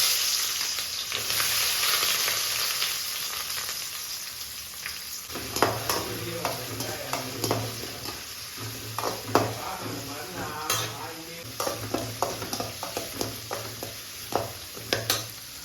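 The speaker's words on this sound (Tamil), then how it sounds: "வெந்தயம் பொரிஞ்சிடுச்சு, வெங்காயம் போட்டுக்கலாம்." Onions go into hot oil already crackling with mustard seeds and fenugreek, giving a steady close sizzle with clinks and scrapes of a spoon against the pan throughout.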